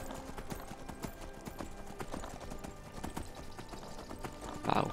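Horse hooves clip-clopping steadily in Skyrim, a regular rhythmic trot over ambient game sound, with a brief louder burst near the end.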